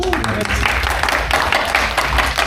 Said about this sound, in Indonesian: Tepuk tangan buat Bang Edi.